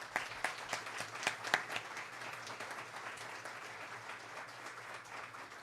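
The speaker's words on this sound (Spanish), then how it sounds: "Demos un fuerte aplauso." A crowd of students, teachers and officials applauds at a UNAM Colegio de Ciencias y Humanidades 55th anniversary ceremony, a few sharp nearby claps at first, then a sustained, moderately distant patter of many hands.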